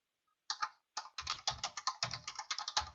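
Quiet computer keyboard typing: a quick run of soft, uneven key clicks after a brief silence, heard close and alone.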